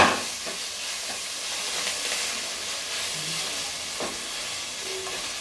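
Ginger garlic paste sizzles in a hot pan for a dry chicken liver dish, a steady bright hissing fry close by, with light stirring scrapes now and then and no voices.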